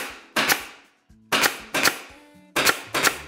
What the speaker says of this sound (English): So I'm going to put a brad or a staple on either side of those holes all the way across.